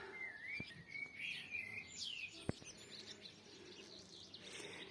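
Several birds chirp and warble together, bright high calls scattered through the clip against quiet outdoor background on a clear early-summer day in a flower garden.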